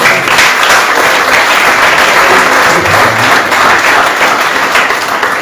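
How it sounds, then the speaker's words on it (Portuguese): A church congregation applauds steadily and loudly for several seconds, a dense wash of clapping filling the room at a Brazilian evangelical missions service. "Você pode aplaudir ao Senhor?"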